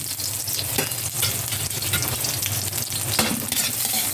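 Onion and garlic sizzle in a pan, a continuous close hiss of hot oil with occasional stirring scrapes, loud and steady throughout, with no speech.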